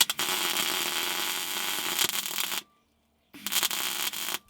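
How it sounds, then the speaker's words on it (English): A welder lays plug welds into a car's steel boot floor panels, making a loud, dense crackle and sizzle in two bursts separated by a short silence. "let's proceed with 100 plug welds"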